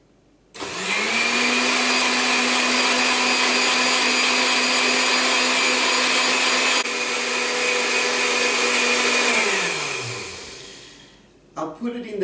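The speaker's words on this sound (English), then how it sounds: "I'll blend them with about 250 milliliters of water." A kitchen blender whirs steadily at full speed for about ten seconds while blending Eremophila leaves with about 250 millilitres of water, then winds down and stops, followed by a few faint clunks.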